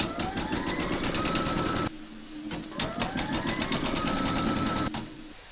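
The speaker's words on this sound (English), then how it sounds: "You're now going to pop your hoop into your machine and stitch round number 1" Embroidery machine stitching a placement outline on a hoop for reindeer slippers, a steady fast needle rattle with rising whine, briefly pausing twice, close and alone.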